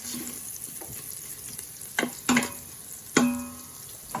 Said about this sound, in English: So we're going to cook the garlic a bit.